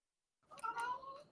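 A single cat's meow, drawn out and fairly faint, rising briefly out of silence.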